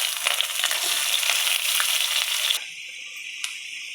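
Onions and green chilies dropped into hot oil already frying cumin seeds and urad dal, a loud close sizzle that hisses steadily, then drops abruptly to a quieter simmer with a light clink.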